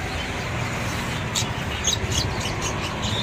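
Songbirds sing in a Long An bird shop, their bright chirps and short trills rising over a steady, noisy background hum, with scattered calls clustered toward the latter half.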